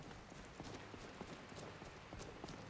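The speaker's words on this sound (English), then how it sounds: "there's a horse." Horse hooves in Skyrim, a soft, steady run of clip-clop steps at a quick rhythm, faint and somewhat distant against a hiss of game ambience.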